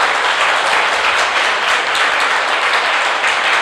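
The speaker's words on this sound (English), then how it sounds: "So let's clap for them." An audience at a mental health session clap together for the cell coordinators, a loud, dense and steady wash of applause that holds at full strength throughout without any voices over it.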